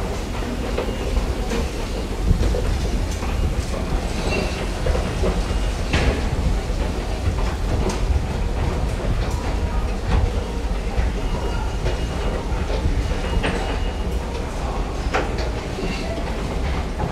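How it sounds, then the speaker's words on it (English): A downtown metro train running on its rails, heard from inside the car as a steady loud rumble with repeated clicking and clacking from the track joints throughout. "Let's hop on the train."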